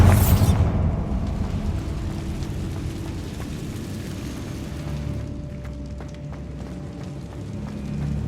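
A Bombarda blasting spell goes off in the Hogwarts Legacy video game, a sharp loud burst at the start followed by a deep rumbling boom that lingers and slowly fades under a steady game soundscape.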